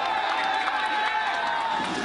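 Dense crowd noise at Jean-Bertrand Aristide's arrival in Haiti, a steady roar of many voices with scattered shouts and cheers, close and loud throughout with no distinct words.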